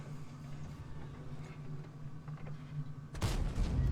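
Tank cannon from the Object 703 (122) in a tank video game: a low engine rumble runs for about three seconds, then one loud, sudden blast fires a blind shot into a bush near the end.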